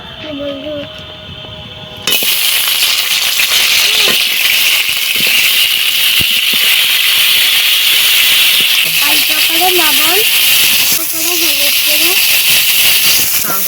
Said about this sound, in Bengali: কাঁকড়াগুলো ভেজে নেব